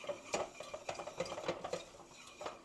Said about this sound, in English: We're going to measure out 3 tablespoons of flour, and we're going to whisk this stuff together.